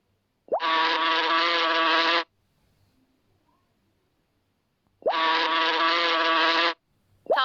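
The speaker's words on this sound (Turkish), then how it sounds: "Bal arısı." A honeybee buzzes in two separate bursts, each lasting under two seconds, that are loud and near with silence between them.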